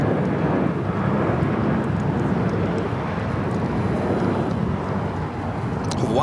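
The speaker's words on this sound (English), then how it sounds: "Sun Country, Flight 428, heading to Minneapolis," A Sun Country Boeing 737-800 jet bound for Minneapolis at Los Angeles airport (LAX) gives off a steady, loud, broadband engine roar that holds evenly throughout, with no talk.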